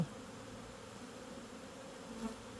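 Many honeybees fly around a hive, a dense, steady buzzing drone that fills the air without pause, fairly quiet and even throughout.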